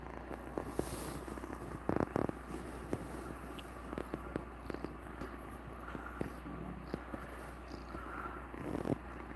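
A house cat purring close by, a soft continuous rumble broken by several brief rustling and scuffing bumps as it moves about.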